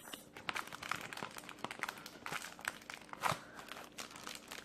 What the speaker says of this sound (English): So I'm just opening this box.